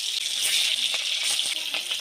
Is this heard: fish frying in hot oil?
yes